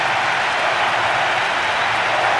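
Stadium crowd at a UEFA Champions League match in PES 2010 on PS2 gives a steady, dense roar of cheering that holds without a break throughout.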